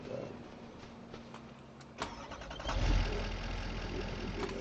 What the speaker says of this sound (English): We need to turn the truck on